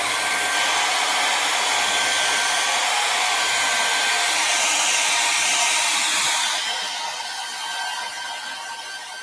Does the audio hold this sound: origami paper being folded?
no